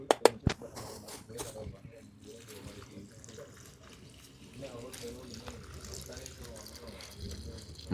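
Water splashing and trickling over raw chicken leg pieces being washed by hand in a bowl, with a few sharp knocks at the start and a person talking over the rinsing.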